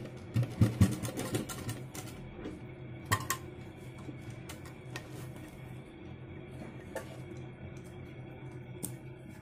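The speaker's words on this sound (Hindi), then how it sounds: "ये देखिए मशीन के नीचे ले जाऊंगी और बिल्कुल धीरे से इस पे दो सिलाई लगा दूंगी" Sewing machine stitching a cup into a blouse, a quick burst of rattling needle strokes followed by faint ticking and small clicks against a quiet room background.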